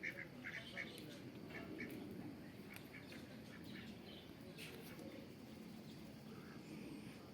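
Ducks quack in short, scattered bursts at a distance, faint over a low outdoor background hum.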